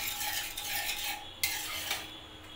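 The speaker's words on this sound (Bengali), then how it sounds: "এবার আমি এটাকে ভালো করে নাড়িয়ে নেব।" Chana dal with salt and turmeric is stirred in a pot, giving a close, continuous scraping and swishing with one sharper knock partway through.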